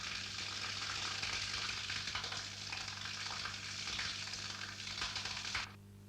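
A machine cuts and blends rubber compound ingredients, giving a steady, dense crackling hiss over a low mechanical hum that runs evenly, then cuts off abruptly just before the end.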